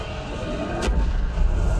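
A single loud explosion bursts out during a Thargoid encounter in the space game Elite: Dangerous, a sharp crack followed by a deep rumbling boom over steady ship ambience.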